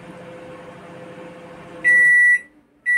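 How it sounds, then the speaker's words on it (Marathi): An LG microwave oven hums steadily with a low running drone, then stops and gives a loud, close electronic beep followed by a second beep after a short pause. "आता याने बीप दिल्यानंतर आपण ओपन करायचं आहे।"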